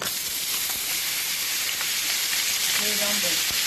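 Lardons sizzle and fry in cooking oil reused from courgettes, a steady, fairly loud crackling hiss that continues throughout with no talk.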